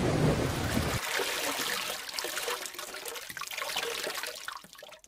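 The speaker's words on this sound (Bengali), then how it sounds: "যেমন বৃষ্টি তেমনি ঝড়, থামবার কোনো লক্ষণই নেই।" Heavy rain and a storm, a sound effect in a Bengali comedy cartoon, open with a loud, rumbling burst that gives way to a steady rain wash, which fades at the end.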